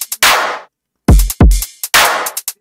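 An electronic HUKAE-style drop with punchy drums: sharp hits, bursts of bright noisy texture and deep booming kicks, loud, choppy and stuttering, with abrupt silences between the blasts.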